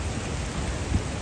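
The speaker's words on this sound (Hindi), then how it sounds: "माशाअल्लाह रहमत की बरसती हुई बरसात में" Steady rain pouring down outdoors at the Prophet's Mosque in Madina, a dense continuous hiss with a low rumble underneath, fairly loud and close, with no voices over it.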